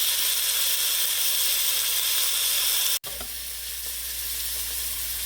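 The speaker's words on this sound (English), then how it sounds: "So we're gonna sear that for about a minute and a half on each side." Meat for a pot roast sears in a hot pan with a steady, close hiss and crackle, briefly broken by a cut before the sizzle carries on.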